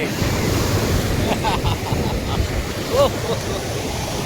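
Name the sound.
sea waves washing up on the beach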